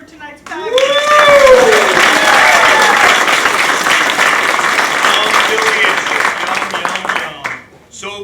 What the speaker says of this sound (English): let's give a big round of applause to Classic Provisions for tonight's package